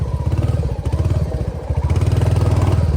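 A motorcycle rides along during an election trip in Nepal, its engine close and loud with a steady rapid putter that dips briefly midway before resuming at an even pace.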